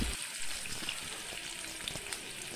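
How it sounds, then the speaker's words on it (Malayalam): Crushed garlic fries in hot oil for a mango pickle, giving a soft, continuous sizzle and crackle at low volume with no voices. "അങ്ങനെ വെളുത്തുള്ളി നല്ലതുപോലെ ചൂടാവട്ടെ."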